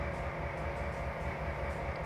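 Train running in the Trainz Plus railway simulator game: a steady, continuous low rumble of rolling stock with a faint rhythmic thump of wheels, alone and without talk.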